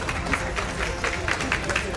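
Audience at an eSoccer tournament prize ceremony applauding, a brief stretch of mixed clapping and crowd murmur heard at moderate distance.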